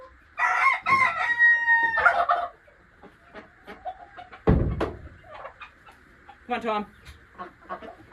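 Chickens cluck and a rooster crows loudly nearby in several bursts, with a sharp thump partway through and a person speaking briefly between the calls.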